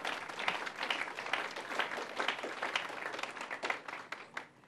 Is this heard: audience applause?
yes